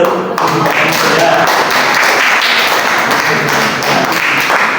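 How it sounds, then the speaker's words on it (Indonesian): Loud clapping from a talk-show audience at the close of a presentation on historical writing, a dense burst of close hand claps with some taps and thuds mixed in and faint voices beneath. "Tepuk tangan dulu."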